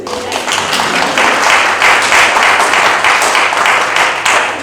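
A church concert audience at Unity of Sarasota breaks into clapping, a dense burst of applause rising and holding steady for a few seconds, fairly loud and close.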